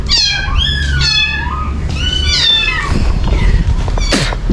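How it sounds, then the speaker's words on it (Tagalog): Several cats meow repeatedly in a cemetery, with overlapping rising and falling cries close by over a steady low outdoor rumble. "Dito yung mga pusa oh."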